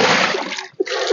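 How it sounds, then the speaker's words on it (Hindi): Water is poured over a person, a loud rushing splash that briefly drops away and then gushes again, close and with no talking. "डाल इसके पानी डाल,"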